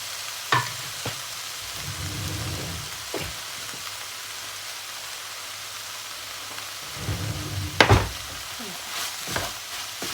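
Fried rice with fermented pork (naem) and tomato being stir-fried in a pan, with a steady sizzle broken by a few sharp scraping clatters of the spatula, some louder pushes clustered near the start and toward the end.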